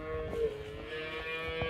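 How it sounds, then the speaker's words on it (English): A cow moos in a farm pen, a long low droning call that is moderately loud, with rustling and other faint livestock noise around it. "A bunch of cows over here."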